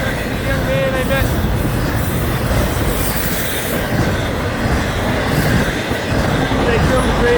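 A train rolls past a road crossing with a steady, loud rumble of wagons and wheels throughout, faint squeals near the start, and some talk mixed in.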